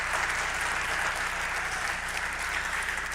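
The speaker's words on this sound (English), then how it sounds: "they deserve a big round of applause" Dense applause from a crowd of families at a fall sports awards night, a steady, even wash of many hands clapping at once, close and sustained without breaks.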